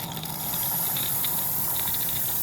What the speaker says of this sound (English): Right, so down here steam will come out.